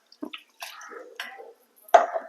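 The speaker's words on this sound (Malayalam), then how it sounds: "ഇതിൽ കുറച്ച് വെള്ളം ഒഴിച്ചിട്ട് ഈ ജാറൊന്ന് അലമ്പി ഒഴിക്കാം" Water splashes and drips in short bursts, a few separate pours and trickles into a blender jar to rinse it while making dosa batter, with a louder splash near the end.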